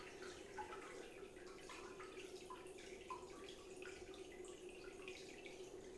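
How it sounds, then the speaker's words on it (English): A Fluval FX4 canister filter drains and drips, with faint trickling water and scattered soft drips over a low steady hiss. "I'm going to let this drain for just a minute, just to get some of this water out"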